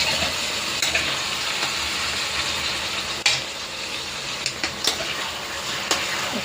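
A kilo of washed chicken is stirred as it fries in a pan, giving a steady sizzle and hiss with a few sharp scraping knocks of the spoon, close and alone.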